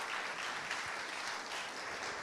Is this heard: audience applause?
yes